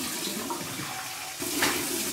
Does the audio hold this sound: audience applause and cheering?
no